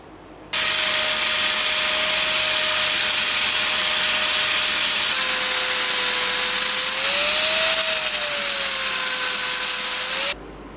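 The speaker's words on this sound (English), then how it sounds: "Take my flap disc and grind the edge so that it is small" A flap disc on a spinning grinder shaves the edge of a wheel for a 2x72 belt grinder, making one loud, continuous high-pitched hiss and whine for about ten seconds, steady and close, with a slight shift in pitch midway.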